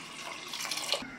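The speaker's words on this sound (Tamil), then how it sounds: "மூழ்க கூடிய அளவில் தண்ணி சேர்த்துக்கலாம்." Water pours in a steady rushing stream into a pressure cooker over washed lentils for a sambar, close and fairly soft, cutting off abruptly near the end.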